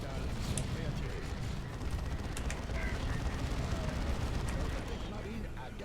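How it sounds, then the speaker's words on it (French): Orbital artillery cannons fire in Dawn of War 2 Retribution, a dense rumbling barrage of heavy impacts and blasts rolling continuously at high volume, with scattered sharper cracks throughout. "Canons d'artillerie orbitale sont prêts à tirer."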